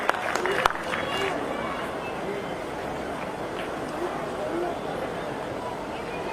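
An audience at a Kalaburagi state government employees' cultural and literary council function welcomes a guest with broad, sustained applause that holds at an even level throughout, a few sharper claps standing out near the start.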